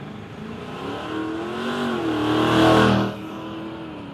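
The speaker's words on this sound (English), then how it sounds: "This is the 1-tonner, so they tell me it's got a Land Cruiser V8 engine in it." A one-tonner fitted with a Land Cruiser V8 diesel engine roars at a drag strip, its engine note rising as it accelerates, peaking loudly around the pass and then dropping off, heard alone without talk.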